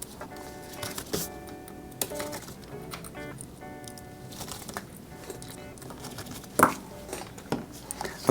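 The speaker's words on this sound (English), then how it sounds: "we'll screw in the last remaining 4 screws" Small screws being driven into a 2020 MacBook A2179 during a screen repair, heard as scattered light clicks and taps at close range over steady background music.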